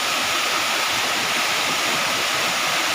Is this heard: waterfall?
yes